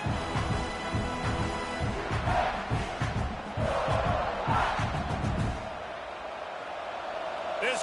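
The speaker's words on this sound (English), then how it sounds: "This crowd trying to make life miserable for this offense." Simulated stadium crowd in the video game College Football 26, at a South Alabama vs South Carolina tournament game: a loud, continuous roar of massed voices that swells and dips throughout, with slightly quieter stretches near the end.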